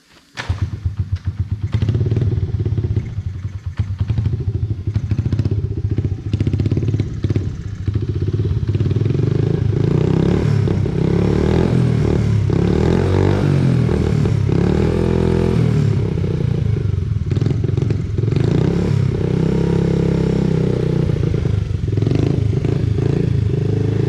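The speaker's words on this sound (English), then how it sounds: "we're going to try and fire it up" A Honda motorcycle engine fresh from an oil change fires up on choke after some clattering cranking, then settles into a loud, close, steady run with repeated revs rising and falling throughout, no talking.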